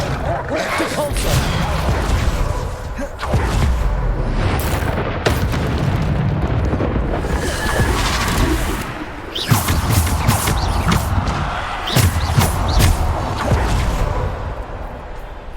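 Bombarda blasting-spell explosions in Hogwarts Legacy go off one after another in loud, dense booms and crashes, mixed with combat effects and other spell sounds throughout.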